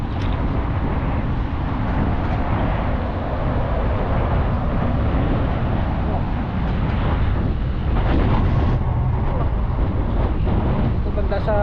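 Wind buffets the microphone on a fishing boat at sea in a loud, continuous low rumble that covers the whole stretch, with faint talk underneath.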